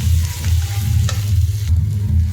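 Paneer masala frying in a pan with bay leaf, salt and turmeric, stirred with a utensil: a steady loud sizzle throughout with a low hum underneath and an occasional scrape of the spoon, no talking.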